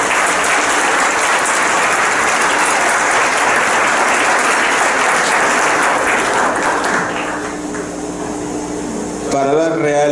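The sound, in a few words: audience applause welcoming a speaker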